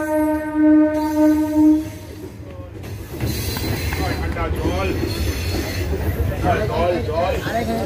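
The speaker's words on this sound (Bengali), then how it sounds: "আর এখান থেকে একটা ট্রেন আসছে, কৃষ্ণনগর দিক থেকে আসছে" A train arrives at NH station on the Krishnanagar line of the Sealdah division, Eastern Railway, from the Krishnanagar direction, a horn blast first, then loud rumbling wheels with squealing, close and continuous.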